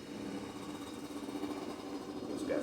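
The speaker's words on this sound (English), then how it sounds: "got somebody going by on a motorcycle" A motorcycle passes near an outdoor shooting range, a mid-pitched engine drone that swells gradually as it goes by, with no talking.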